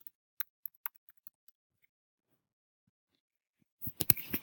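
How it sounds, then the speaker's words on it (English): A computer keyboard is tapped with sparse, quiet clicks in the first second and a half, then silence, followed by a louder cluster of keystrokes and clatter at the end. "Again, you have to type in your password."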